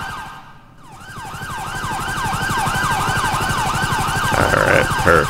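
A wailing ambulance siren sounds in GTA 5, its pitch sweeping up and down in a fast repeating cycle, loud and close and steadily swelling, with an engine rumble beneath it.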